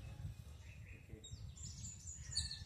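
Small sparrow-type birds chirp faintly at a distance while eating rice scattered for them, with a few thin tweets toward the end over a low background rumble.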